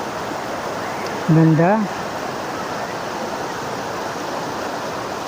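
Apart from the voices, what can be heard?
flowing mountain river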